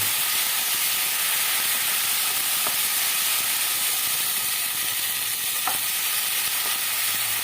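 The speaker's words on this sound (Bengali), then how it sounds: "টমেটো পেস্ট দিয়ে একটু ভালো করে নাড়িয়ে চালিয়ে নেব" Tomato paste stirred and fried in a pan for a spicy tangra fish curry, a loud continuous hissing sizzle with occasional scraping spatula strokes, close up and without speech.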